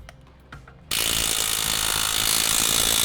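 A ratchet tightens the chassis bolts on a Rockarmor rear bar with wheel carrier fitted to a Toyota 200 Series. A brief quiet stretch comes first, then a loud, continuous, dense mechanical clatter with no talk.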